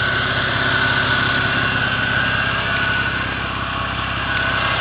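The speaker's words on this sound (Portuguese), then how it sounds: "famoso motor 6 cilindros, tá?" A BMW 325i six-cylinder engine idles steadily, a loud close drone with an even low pulsing rumble throughout and no voices.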